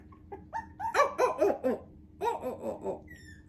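A puppy barks in a quick run of high, yappy barks and yips, then a second burst after a short pause, close and clear with no talk over it.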